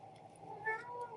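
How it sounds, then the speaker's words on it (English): A house cat lets out a single short meow, soft and close, against quiet room tone. "My cat goes meow."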